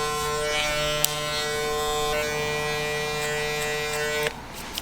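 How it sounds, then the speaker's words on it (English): Close by, an electric hair clipper hums in a steady, bright buzz while cutting hair for a burst fade mohawk, then cuts off abruptly before the end. "And you can hear the hair cutting still."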